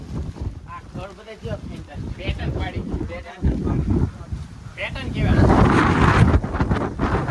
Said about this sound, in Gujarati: વરસાદ પાછો બીજી વાર ચાલુ થઈ ગયો છે.